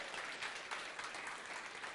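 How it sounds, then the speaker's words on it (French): A church audience at a French-speaking service breaks into applause, a soft, distant-sounding patter of many hands that stays even and fairly quiet for two seconds. "Par applaudissement, qui est toujours réveillé?"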